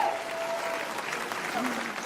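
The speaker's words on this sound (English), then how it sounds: "Round of applause." Audience applause at a stand-up comedy show fills the room with steady, dense clapping that holds at an even level, with some crowd noise mixed in.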